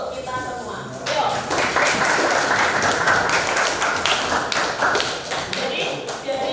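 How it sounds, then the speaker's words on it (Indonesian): Classroom audience applauding together, a dense run of claps starting after a second and staying steady and fairly loud to the end, with a voice speaking over the start. "Kita beri aplaus untuk kita semua."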